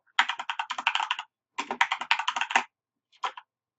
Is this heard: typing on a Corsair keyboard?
yes